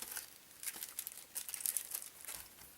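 A foil pack being handled, giving quiet, close crinkling and rustling in irregular bursts with no talking.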